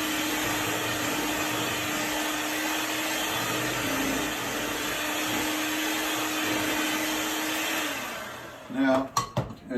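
An electric mixer whirs steadily as it beats flour and butter into a batter, a loud continuous drone that stops near the end, followed by a few clattering knocks.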